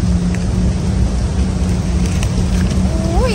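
Heavy rain pours outdoors as a dense, steady wash of noise, close and loud throughout, with a faint rising tone near the end.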